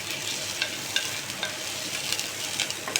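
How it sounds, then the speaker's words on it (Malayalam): Onions sizzle and sauté in a pan for a vegetable curry, a steady close frying hiss with light scraping clicks as they are stirred. "ഇപ്പോൾ ഇതാ ഉള്ളിയൊക്കെ നന്നായി ഒന്ന് സോട്ടായി വന്നിട്ടുണ്ട് കേട്ടോ"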